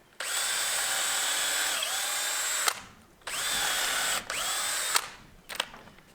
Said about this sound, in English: So now what I'm going to do is just kind of drill a screw in here